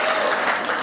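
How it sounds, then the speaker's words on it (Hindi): A brief, steady burst of audience applause greets performers at a Hindi shayari and poetry stage show, the clapping sounding thick and continuous. "जरा जोरदार तालियां बजाकर"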